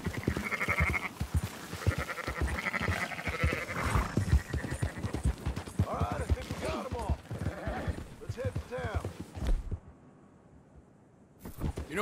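Sheep and goats bleat repeatedly in Red Dead Redemption 2, close and overlapping, with hoofbeats clip-clopping underneath and people talking over the flock before a brief quiet near the end.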